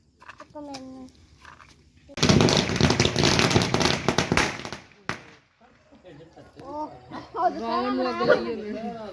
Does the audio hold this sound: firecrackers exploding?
yes